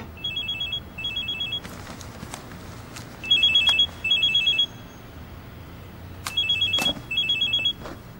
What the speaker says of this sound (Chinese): 诶，做咩唔听电话啊？